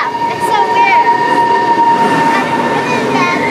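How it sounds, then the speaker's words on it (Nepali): A train pulling into a station in Oslo, a steady rumble with high screeching tones from the wheels or brakes throughout, loud and close. "ट्रेन आइपुग्यो है हाम्रो."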